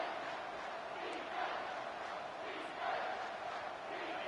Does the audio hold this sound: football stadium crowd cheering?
yes